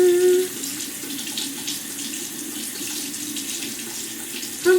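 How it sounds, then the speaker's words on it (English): A bathroom tap is left running to warm up during a morning routine, giving a steady, fairly close rush of water that holds at an even level throughout. "I was keeping the water running because it needs to get warm"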